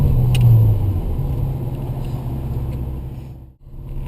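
A Ferrari California T engine rumbles loudly at close range, a low droning note that swells early, then drops back and dips briefly near the end, with no voices.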